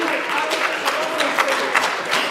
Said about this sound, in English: I didn't get a single clap.